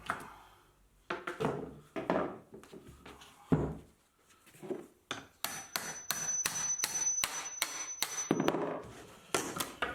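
Strips of MDF and veneer are pried off wooden table legs held with brad nails, giving irregular knocks, thumps and clusters of rapid cracking and scraping, loud and close with brief pauses.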